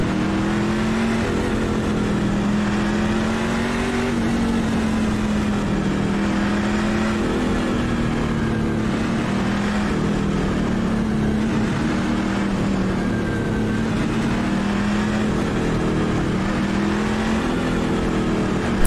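A Ford F150 race truck engine in the iRacing game at Dover Motor Speedway drones steadily and loudly throughout, its pitch rising and falling as the truck gets under way with the pack.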